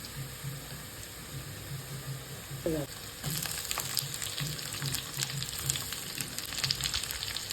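Bitter gourd and onion frying in a pan over low flame, a soft steady sizzle with a brief scrape of stirring partway through and crackling that grows denser toward the end.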